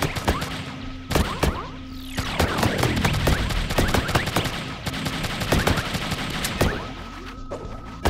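Gunfire from the arcade game Pang Adventures rattles in rapid bursts of shots, mixed with pops and zapping effects over steady background game music.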